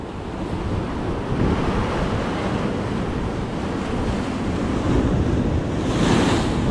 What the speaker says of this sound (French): c'est ce genre de vagues là qu'il faut faire gaffe